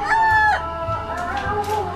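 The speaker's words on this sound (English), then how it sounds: "we just ran into a tree full of chickens" Several chickens in a tree on Gili Trawangan, Indonesia, cluck and call nearby, tonal squawks overlapping in short bursts, fairly loud and close, with no talking.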